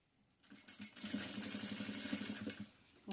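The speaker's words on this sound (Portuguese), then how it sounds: "Então, eu vou costurar um pouquinho aqui." A sewing machine stitches a denim lining for an upcycled jeans pouch. It gives a fast, even run of mechanical pulses for about two seconds at close range, then stops, with no speech.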